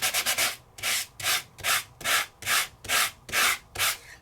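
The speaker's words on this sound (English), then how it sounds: "And where it's embossed, and I hit it with the sandpaper" Sandpaper is rubbed over embossed paper in quick, even back-and-forth strokes, about nine close, dry scratchy passes in a steady rhythm with no other sound.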